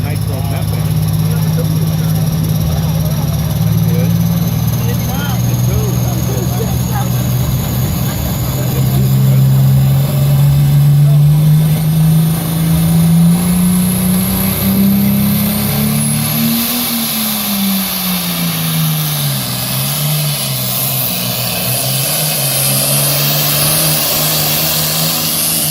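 John Deere pulling tractor roaring down the track at a county fairgrounds tractor pull, a deep sustained engine drone that climbs in pitch and then drops, with an announcer talking over it.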